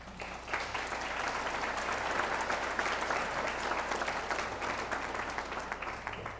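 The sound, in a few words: applause from convocation audience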